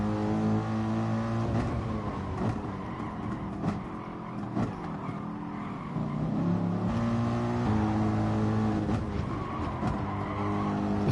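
Racing car engines rev hard and sweep past one after another, rising and falling in pitch with brief tyre noise, loud and close throughout.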